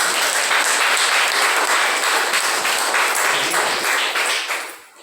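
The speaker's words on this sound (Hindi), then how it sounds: "आप लोग ताली बजाओ भाई।" Crowd applause at an Independence Day gathering, a dense steady clapping from many hands that carries on before fading out at the end.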